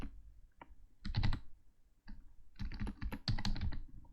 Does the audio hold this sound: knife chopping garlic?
no